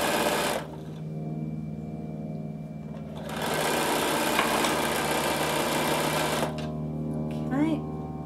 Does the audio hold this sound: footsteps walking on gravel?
no